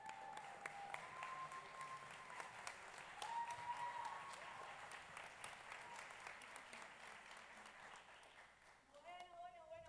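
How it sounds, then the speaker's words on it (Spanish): Audience applause at a children's and youth theatre awards ceremony, greeting a musical group performing In the Heights; steady clapping fills the stretch at moderate distance, with voices rising over it before it fades near the end. "Aplausos, por favor."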